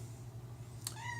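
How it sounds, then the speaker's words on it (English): A domestic cat meows once for attention, a short rising cry at close range over a steady low electrical hum, followed by faint fading tones. "You can hear my cat crying for some attention."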